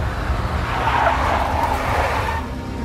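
A big black Mercedes in Max Payne skids with squealing tires and engine roar, a loud sustained screech of a few seconds that fades slightly at the end.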